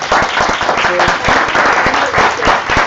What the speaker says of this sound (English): So good, big round of applause